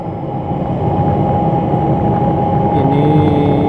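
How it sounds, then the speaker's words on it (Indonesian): The KA Batara Kresna passenger train runs along the Purwosari–Wonogiri line on an uphill stretch toward Wonogiri station, heard as a loud, steady rumble with a constant tonal drone throughout. "cocok sekali menaiki kereta api Batara Kresna"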